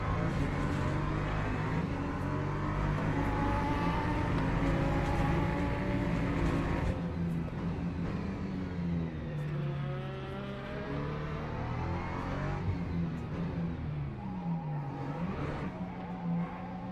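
Race car driving in the rain, running wide in understeer with tyres scrubbing: a steady engine drone and sweeping pitch changes throughout, constant and close, with no talk.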